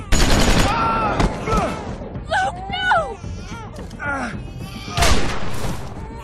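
Gunshots in The Walking Dead Season 2 game, a few heavy booming shots with sharp attacks spaced through the scene, mixed with tense voices and shouts close by.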